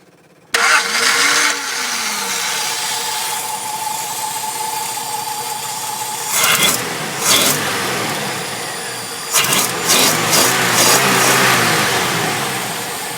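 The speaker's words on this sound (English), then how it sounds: "It's a lovely sounding engine, it's got lots of torque" A 1960 Ford Zephyr Mk2 engine cranks and fires abruptly, settling into a steady close idle, then two throttle blips rev it up and down before it returns to idling.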